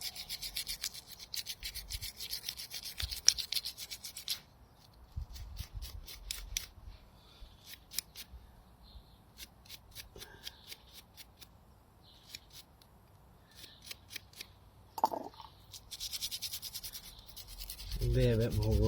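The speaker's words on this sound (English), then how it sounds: "With a brake cleaner, scrub away." Stiff brushing strokes scrub a motorcycle front brake caliper from a Honda VFR 800 doused in brake cleaner, a close, scratchy rubbing in quick repeated bursts with brief pauses and a louder rasp near the end.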